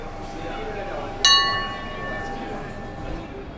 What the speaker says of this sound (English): When in Pizza Hut, you ring the bell when you leave